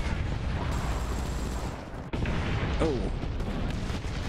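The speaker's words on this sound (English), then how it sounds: "I knew artillery was coming" Artillery fire in War Thunder during a Japanese tier 1 tank battle: a dense, continuous roar of booming rumble and blasts fills the scene, with one brief dip midway and a short exclamation from a player.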